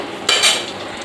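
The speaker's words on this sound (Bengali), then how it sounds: "তেলের মধ্যে পেঁয়াজটা দিয়ে দিলাম" Onion and potatoes frying in oil with bay leaf in the pan, a brief close burst of sizzle and a metallic clink over a low steady hiss, with no one speaking.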